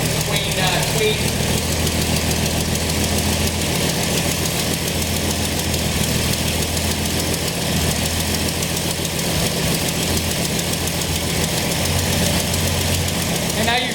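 A Toyota 2F engine with an Aisan carburetor idles steadily while the idle mixture is adjusted, a loud continuous rumbling drone with a faint knocking pulse and no break across the whole stretch.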